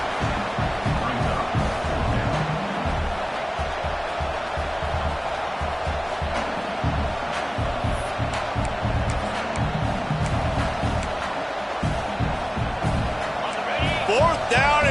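Roaring stadium crowd at a Nebraska versus Clemson college football game on a fourth-down play, a constant loud wash of noise under a play-by-play announcer's voice throughout.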